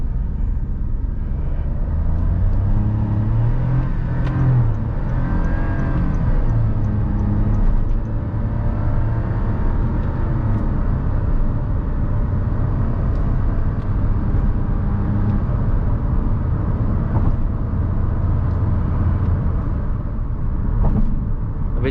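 A Bajaj auto rickshaw in first gear pulls away with its small engine droning loudly and continuously close by, steady throttle over road noise, and nobody speaking.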